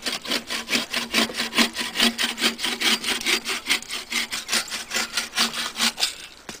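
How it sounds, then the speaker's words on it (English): A hand saw works through a tree branch just outside the collar in a pruning cut, with quick, regular back-and-forth rasping strokes, close and fairly quiet. "you can make a third cut just outside of the collar to finish your pruning job."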